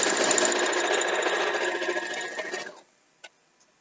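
A sewing machine stitching a queen-sized quilt runs in a fast, steady mechanical chatter, close and loud, then stops abruptly and leaves near silence broken by a single small click.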